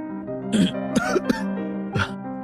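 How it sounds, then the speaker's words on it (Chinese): A brief burst of harsh, excited coughing and throat clearing from an emperor interrupting a court conversation, several rough bursts close up, with sustained music tones underneath. "武皇激动的咳嗽声打断了众人的谈话"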